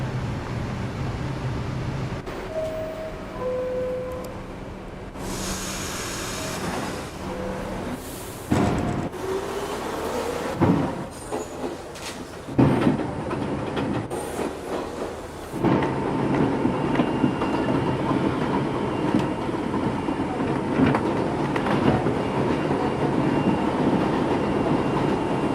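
A Riverdale-bound New York City subway 1 train running, with a loud, sustained rumble and screech of wheels and cars, clanks and bangs along the way, and the roar building toward the end.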